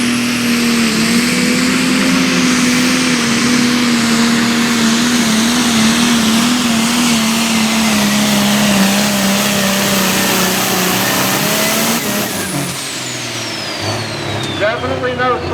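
A high-horsepower pulling tractor at a tractor pull roars loud and steady, its droning pitch sagging slowly under load before the sound breaks off and eases near the end.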